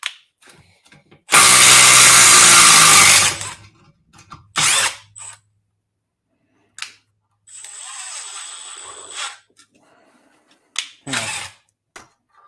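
A Milwaukee 12V power tool runs close and loud in a long whirring, ratcheting burst, followed by shorter bursts and a lower, steadier run of the motor, with brief speech in the gaps.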